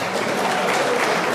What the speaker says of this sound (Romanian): De aceea merită aplaudate turnicăresele din Ianculești.